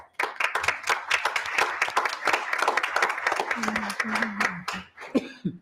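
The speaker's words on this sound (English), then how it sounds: "Clap for them one more time." Audience applause at a school board meeting, a dense patter of clapping from a modest crowd lasting several seconds, with a voice and a little laughter near the end.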